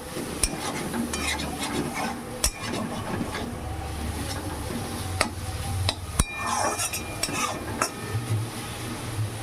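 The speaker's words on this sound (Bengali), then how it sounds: "ডিমের সঙ্গে মোচাটাকে ভালো করে নেড়ে নিলাম" Banana flower and egg stirred together in a frying pan: busy scraping and clattering of a spoon against the metal, with sizzling frying underneath and a few sharper knocks, close up.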